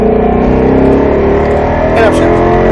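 A Roush Mustang RS3 drives on the Speed Vegas track, its engine a loud, close, steady drone with a brief rev blip near the end, while a voice speaks over it.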